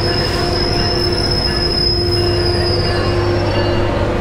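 A Metrolink commuter train passes close by on a sunny coastal stretch in San Clemente, California, its wheels squealing in a loud, sustained high whine over steady rumbling rail noise for the whole stretch.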